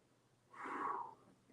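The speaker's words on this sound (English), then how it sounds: "I'm feeling one yawn," A single drawn-out human yawn, close and fairly quiet, swelling for about half a second before tapering off, with no talking over it.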